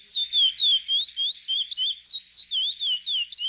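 Pet birds chirp in a steady run of rising and falling whistled notes, close and clear, with no voices over them.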